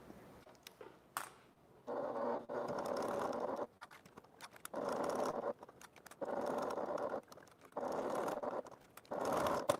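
A sewing machine top stitches around a faux leather bag in repeated bursts of rapid, steady whirring, separated by short quiet pauses and a few small clicks of handling.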